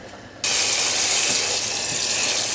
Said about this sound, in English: rinse it with some cold water